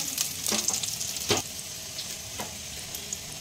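Garlic frying in oil for chicken momo soup, a steady close sizzle with a few brief clinks or stirring knocks near the start, with no talk.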